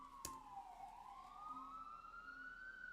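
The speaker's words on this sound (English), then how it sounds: "we have a siren coming" A distant emergency vehicle siren wails in a slow rising and falling sweep, faint and steady against quiet street background noise.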